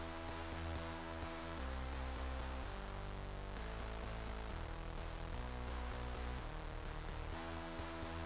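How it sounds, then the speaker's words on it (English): A deep synthesizer bass line from a supersaw production in Ableton plays continuously, shifting between low sustained notes in a steady pattern, with faint rhythmic ticks on top. "So this the bass synth sounds like this."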